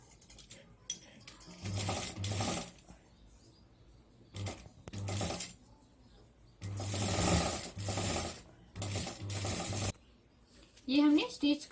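A sewing machine stitches fabric and elastic in several quick mechanical bursts of clattering needle action, separated by pauses with small handling noises.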